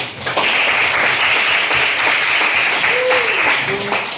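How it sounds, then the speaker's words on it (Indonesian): A classroom of students claps together in steady, dense applause that carries on for several seconds before tapering off, with a voice briefly heard over it. "Cukup, bagus, kasih aplaus"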